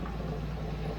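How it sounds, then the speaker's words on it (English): A car engine idles steadily at close range with its exhaust rattling, a continuous low rumble that holds an even level throughout and has no voices over it. "You can listen to the exhaust ratting from there."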